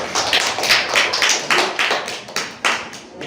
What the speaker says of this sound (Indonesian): Di aplaus dulu.